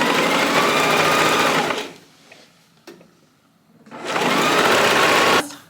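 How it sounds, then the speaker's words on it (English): A sewing machine stitches a collar onto a pink robe in two loud, steady bursts of fast whirring. A quiet pause with a small click separates them. "So now we're going to sew."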